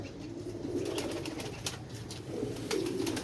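A female pigeon coos close by in soft, low, repeated phrases that come in a steady rhythm over quiet background noise.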